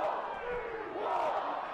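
Faint, distant roar of a home crowd at a Seattle versus Utah rugby match, a broad sustained murmur of voices under the play-by-play commentator's voice.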